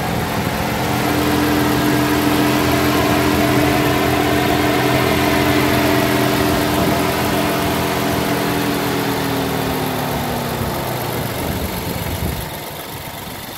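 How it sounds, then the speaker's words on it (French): A twin-turbo V6 in an Alfa Romeo Giulia Quadrifoglio idles steadily close by with the hood open, a loud, even engine drone carrying on without a break. Near the end it eases down slightly. "Voilà le V6, donc biturbo."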